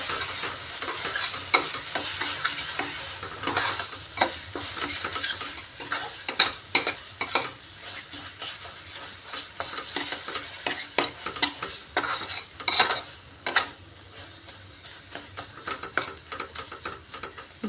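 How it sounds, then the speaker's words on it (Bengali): Egg masala seasoned with sambar masala sizzles steadily in a pan, with repeated scraping stirs and clicks from the spoon over a constant frying hiss. "সম্বর মশলাটা দিয়ে আরও কিছুক্ষণ কষিয়ে নিচ্ছি"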